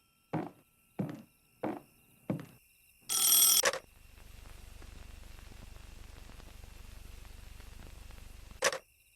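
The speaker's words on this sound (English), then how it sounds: "can you hear the phone? Let me get that." A telephone rings in the video game Box of Broken Nails: four short, evenly spaced rings, then a longer, louder burst, with a low steady hum underneath and one more sharp sound near the end.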